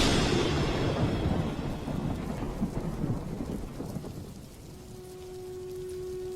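Heavy rain pours down through a thunderstorm, with a deep rumble of thunder rolling underneath at first, then easing into a steady wash of rainfall and a faint low hum near the end.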